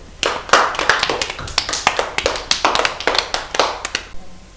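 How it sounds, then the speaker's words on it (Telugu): Clapping from a small audience of children at a weekend show, a brief burst of uneven, sharp handclaps lasting a few seconds, close and fairly loud before trailing off. "ఇప్పుడు క్లాప్స్ కొట్టండి"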